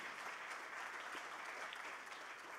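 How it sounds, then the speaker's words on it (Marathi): An audience at a seminar applauds steadily, a dense, even patter of clapping from a seated crowd heard at moderate distance for a few seconds, with no voices over it. "एकदा जोरदार टाळ्या त्यांच्यासाठी झालं पाहिजे."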